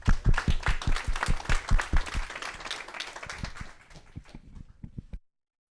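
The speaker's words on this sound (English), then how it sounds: "One last round of applause for Ngesa." An audience at a Build With AI tech event claps together, loud and dense at first, then thins out into a few scattered claps before stopping.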